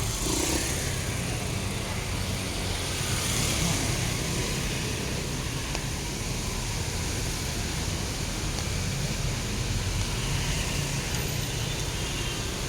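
Dense, steady road traffic near a beach in the Philippines roars as a continuous broad wash of engine and tyre noise, close and unbroken from start to finish, with no clear voices.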